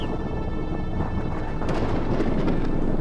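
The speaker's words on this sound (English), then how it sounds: "This storm is getting a lot closer, the thunder and the lightning." Deep, continuous thunder rumbling through a storm on a mountain top, with steady rain noise and a few sharper crackles in the second half; no voices.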